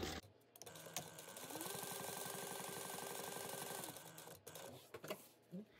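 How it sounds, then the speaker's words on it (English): A sewing machine runs steadily for several seconds, stitching around three sides of fabric for a light-up Deathly Hallows project, a continuous close mechanical whir that starts and stops cleanly. "So now I'm gonna sew around the three sides."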